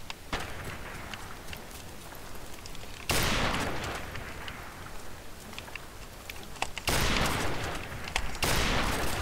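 Gunfire in the shooter game Modern Warfare Remastered during a 1v1 match, with loud bursts of rapid shots and sharp cracks mixed with footsteps and steady game noise.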